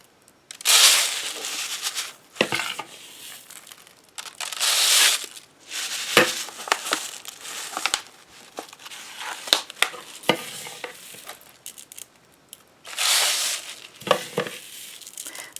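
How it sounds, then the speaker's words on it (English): Flaxseed and lavender are spooned into a funnel and shaken down, giving repeated dry, grainy rustles and pours in bursts, with short scraping clicks between them, close and moderately loud. "Just spoon it in the funnel and then just shake it down."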